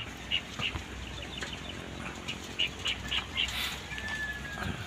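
Racing pigeons released at dawn in Rosario, La Union, their wings giving soft scattered flutters and flaps over a steady outdoor background, moderately close, with faint bird calls.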